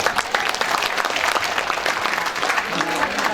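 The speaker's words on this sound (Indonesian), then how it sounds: "Tepuk tangan dulu buat Ibu." An audience claps for the head of SMA Negeri 15 Jakarta at a school assembly. The applause is dense and steady, a crowd of hands filling the room for a few seconds without a break.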